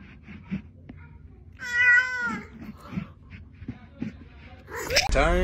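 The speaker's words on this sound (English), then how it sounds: "Peek at the cat." A cat meows in a drawn-out, wavering cry near the middle, set among softer background sounds and brief chatter, with another sharp cry at the end.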